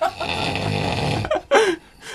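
A recording of deep, loud snoring plays in the background of a radio-style talk show, a long rough drawn breath followed by shorter snorts.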